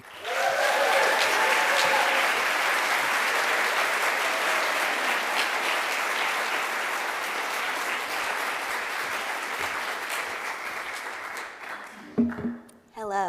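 A large live audience at a CreativeMornings New York talk gives a loud, sustained round of applause that fades gradually over about twelve seconds, ending with a few whoops and a voice starting to speak.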